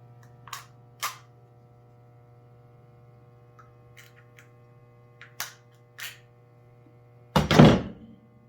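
Large knife punching into a beer can to shotgun it, a sharp loud puncture and hiss near the end, preceded by a few faint taps and clicks over a low hum.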